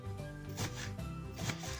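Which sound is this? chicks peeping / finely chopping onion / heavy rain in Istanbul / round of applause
finely chopping onion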